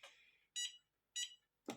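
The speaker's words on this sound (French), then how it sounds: "Et là, elle a bipé 2 fois, vous relâchez." A Cricut Mug Press gives several short, evenly spaced electronic beeps as it is switched on. They sound clear and close against silence.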